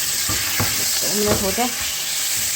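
Chicken with spices for nihari sizzles and is stirred in a pot, a steady close frying hiss with a few scraping strokes, while someone talks briefly over it.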